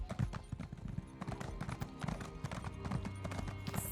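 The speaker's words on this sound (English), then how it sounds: "let's jump on our mount, our horse, and get on up there." A horse mount's hooves clip-clop steadily in Elder Scrolls Online, a continuous trotting rhythm under a layer of game music and ambience.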